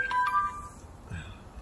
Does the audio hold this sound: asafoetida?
no